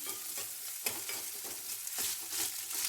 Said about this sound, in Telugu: ఇలా మగ్గనివ్వాలి ఆనియన్స్ మగ్గాలంటే కొంచెం సాల్ట్ వేసుకోవాలి